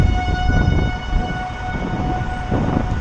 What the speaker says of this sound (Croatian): Stalno se pale sirene.